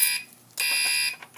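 A fire alarm system sounds during a signal code test, two loud, close, high-pitched tonal blasts separated by a short gap, with a brief fainter tone at the end.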